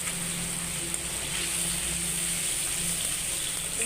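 Pangas fish frying in a pan, a steady, dense hiss and sizzle of hot oil that holds evenly throughout, close and fairly loud, with no talk.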